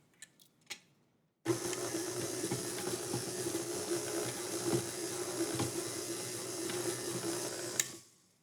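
Electric mixer beating cold butter with light brown sugar on medium speed, a steady dense whirring and rattling that starts abruptly after a few faint knocks and runs continuously before cutting off.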